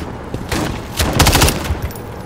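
Enemy gunfire in Call of Duty Modern Warfare 3, rapid bursts of automatic shots cracking in quick succession, loud and close, building to a dense volley midway.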